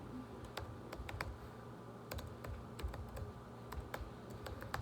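Computer keyboard typing in a classroom teaching session, a steady run of sharp key clicks at close range with no talk over it.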